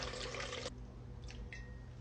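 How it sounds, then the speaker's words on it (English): Filtered water pours briefly into a bowl for sourdough dough, a short gush that stops abruptly, followed by faint drips in a quiet kitchen. "So we will start with 600 grams of filtered water."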